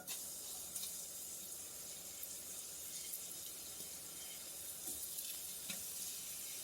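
Gochujang-glazed pork sizzles and fries in oil in a frying pan, a steady crackling hiss that runs throughout, with occasional louder spits and pops.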